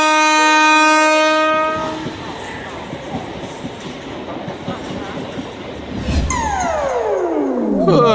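A cartoon train leaves the station: a loud, sustained horn blast gives way to a steady rumbling clatter of wheels, ending in a falling whistle as the train pulls away.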